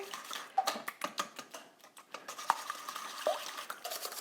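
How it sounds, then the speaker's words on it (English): A whisk beats two eggs into cranberry sauce muffin batter in a bowl, making quick, rhythmic clinking and tapping against the sides, close and moderately loud, with no talking. "Now I'm gonna go ahead and add in my 2 eggs and whisk that together."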